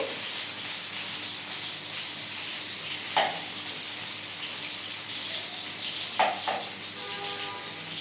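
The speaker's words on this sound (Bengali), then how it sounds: "উল্টে পাল্টে দিতে হবে যেন লাল করে ভাজা হয়" Continuous sizzling and hissing of food frying in hot oil, with a few brief clinks and scrapes from stirring.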